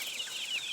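Chickens near a farm coop give off steady high-pitched clucks and chirps, a close, continuous flock chatter with no talk over it.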